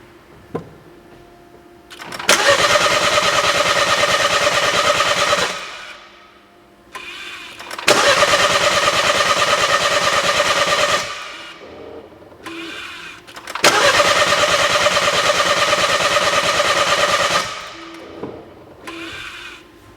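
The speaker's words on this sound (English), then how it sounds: "once we've confirmed this is a crank no start" A BMW engine cranks without catching on a crank-no-start fault, three long starter bursts of roughly three to four seconds each with quiet pauses between, loud and close with no talking.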